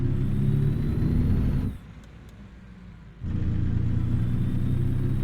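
International Lonestar truck in American Truck Simulator, engine in the wrong gear, giving a loud low rumbling drone that drops out briefly mid-way and then returns just as heavy.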